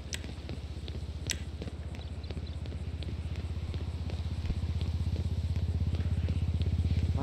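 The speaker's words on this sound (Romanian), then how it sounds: "Mă, uite ceva, un motocicletă." A motorcycle engine in the FiveM video game idles and then revs up, a steady pulsing putter that grows gradually louder and faster, close and alone.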